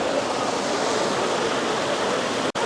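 Cold water pouring over hands at Mt. Fuji, a steady close splashing rush like a small stream, continuous until a brief cut near the end.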